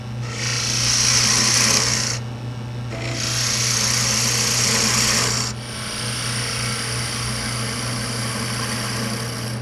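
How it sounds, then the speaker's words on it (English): A spindle gouge shapes a small wooden piece on a lathe, producing a steady motor hum under bursts of raspy cutting noise that stop and restart several times. "Now I'll use the spindle gouge"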